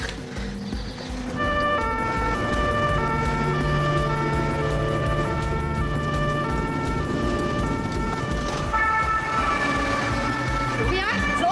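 An ambulance siren wails loud and steady, its two-tone pattern repeating throughout over background noise, with the vehicle seemingly close.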